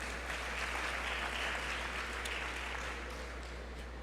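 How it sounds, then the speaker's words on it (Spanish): An audience at a panel discussion on public policy against child labour in Panama applauds for a panelist, with dense, steady clapping filling the room throughout and a low hum beneath it. "Un fuerte aplauso para Noely,"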